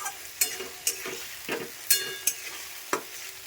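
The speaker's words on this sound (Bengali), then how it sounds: "মশলাটা সুন্দর করে ভালো করে ভেজে নিতে হবে যতক্ষণ মশলা থেকে তেল না বেরোচ্ছে।" Spice paste fries in hot oil for a katla fish curry while a utensil stirs it. The sizzle holds steady underneath, and sharp scraping strokes of the spoon come about every half second, up close and with no talk.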